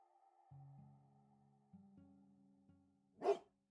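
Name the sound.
dog barking in a video game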